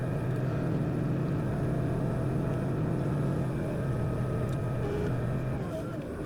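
A compact Kioti CK2620 tractor's engine runs steady and close, a continuous low hum and drone clearing snowdrifts in bitter cold, with no voices over it.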